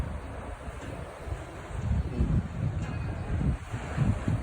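Ocean waves wash in and out in soft repeated swells, mixed with steady wind buffeting the microphone, moderately faint and without speech.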